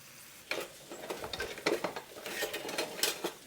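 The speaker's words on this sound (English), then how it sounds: "We'll stir the meat up in the pan in a second here." Meat frying in a pan being stirred, with a run of scraping, clattering utensil strokes over a soft sizzle, close and fairly quiet.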